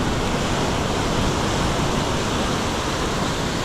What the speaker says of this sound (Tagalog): Laki ng alon eh oh.